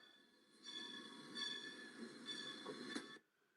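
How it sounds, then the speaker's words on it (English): A synthetic train sound effect: a steady rumble with a sustained whistle-like tone that swells and holds for about three seconds, then cuts off abruptly, heard alone at low volume. "there's the train, folks."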